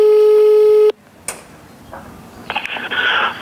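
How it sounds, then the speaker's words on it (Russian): A steady telephone line tone sounds loudly for about a second while a call is being placed, then cuts off, leaving faint line noise and clicks with a rising hiss. "Сейчас попробуем позвонить туда."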